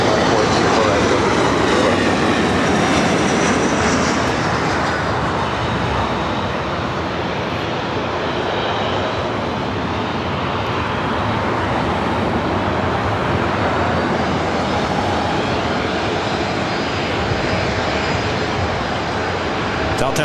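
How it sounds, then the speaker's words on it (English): A Delta Airlines 737-800 jet airliner at LAX, bound for Salt Lake City, producing a sustained, rolling engine roar that swells early then settles into a steady broad rumble for the full stretch, nearby and continuous. "Delta Airlines Flight 2311 heading to Salt Lake City, a 737-800."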